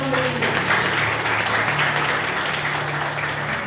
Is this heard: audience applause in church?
yes